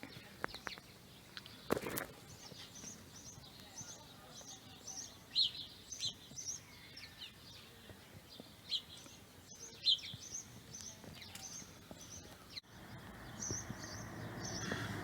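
Birds at a garden bird bath on a hot day give repeated high chirps and short tweets at a moderate distance over a quiet background, broken by a few nearby knocks and rustles.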